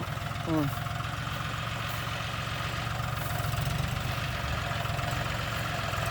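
A John Deere 5040D tractor engine idles with a steady low, throbbing rumble close by, with a brief clunk of a gear engaging near the start and a slight rise in engine load afterward.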